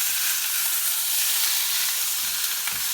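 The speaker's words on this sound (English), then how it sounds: "add a little bit of olive oil to the top of the meat, just to make sure we have a little bit of sear" Pork carnitas searing in olive oil in an Instant Pot, a loud steady sizzle and hiss throughout, close up, with a couple of soft low bumps near the end.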